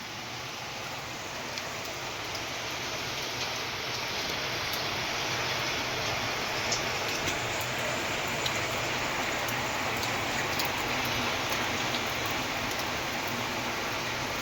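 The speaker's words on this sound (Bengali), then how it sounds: "কি বৃষ্টি দেখো, বাপরে বাপ" Heavy rain falls steadily outside a home window, a dense continuous hiss that stays even and fairly loud for the whole stretch, with no voices over it.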